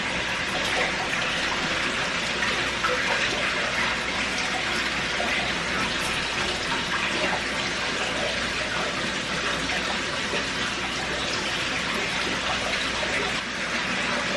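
Water draining out of a goldfish tank during cleaning, a steady broadband gushing and splashing that continues without pause at a constant, fairly loud level.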